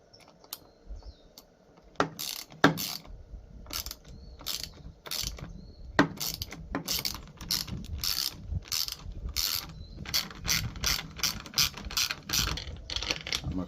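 A ratchet clicks in quick bursts while tightening nuts with lock washers on a fixture for a DIY 48V LiFePO4 battery built from EVE 105Ah cells, close and crisp with brief pauses between runs.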